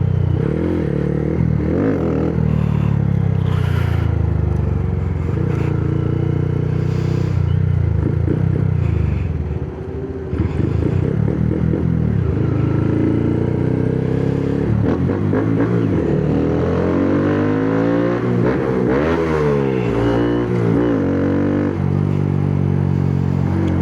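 A Honda Grom motorcycle's engine revs loud and close during a ride in second gear, rising and falling in pitch with continuous mechanical clatter and no talk.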